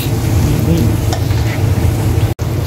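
Chop suey vegetables sautéing in a hot pan with a steady, loud sizzle and occasional stirring scrapes, continuous throughout with one brief dropout near the end.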